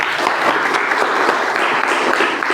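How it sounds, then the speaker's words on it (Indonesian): Steady, dense applause from a group in a classroom at a teacher-training session, greeting a team of presenters; the clapping stays loud and even throughout without fading. "kita beri aplaus dulu untuk teman-teman"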